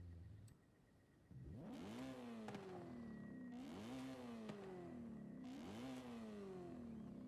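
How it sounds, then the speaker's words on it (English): BMW drift car with a racing exhaust in a video game, revving hard three times in a row, each rev climbing and falling back, loud and close after a brief quieter idle. "Racing exhaust sounds pretty good."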